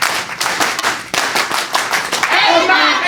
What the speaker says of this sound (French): Vous avez applaudi pour vous-même